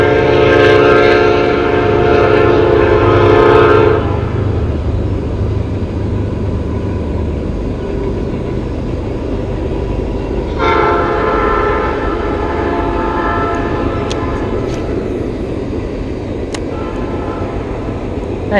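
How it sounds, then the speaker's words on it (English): A train passing behind a pond: a long, loud horn blast, then the steady rumble of rolling railcars, then a second horn blast, continuous and moderately distant. "Nice little train in the background."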